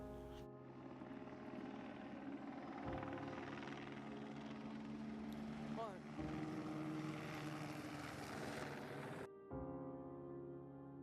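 A camera drone hovers overhead at an abandoned 1960s mansion, its rotors giving a loud, steady buzzing whine with shifting pitch that drops out abruptly near the end.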